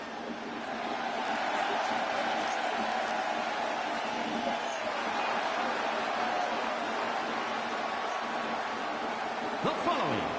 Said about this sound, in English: No surprise, the superstar is bringing the crowd to their feet.